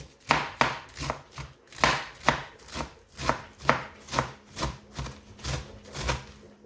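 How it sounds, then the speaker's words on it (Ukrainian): Steady knife chopping of napa cabbage into thin strips on a board, about a dozen crisp even strokes close up with no talking. "Тепер нарізаю пекінську капусту"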